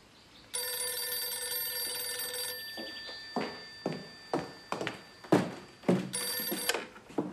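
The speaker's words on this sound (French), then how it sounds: "Téléphone." A telephone ringing indoors, with a sustained electronic bell tone starting, then a series of sharp knocks or thuds at regular intervals, and the ringing returning briefly near the end.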